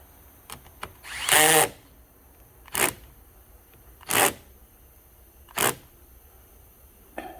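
Power drill tightening bolts on a three-week-old alternator that stopped working, a handful of short separate bursts with gaps between, the first one longest and loudest, close by and alone.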